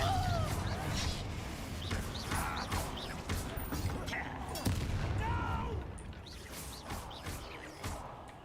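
Hogwarts Legacy combat with Confringo blasting spells going off as repeated sharp bursts and booms amid busy fight effects, moderately loud, with voices speaking spell names and combat lines throughout.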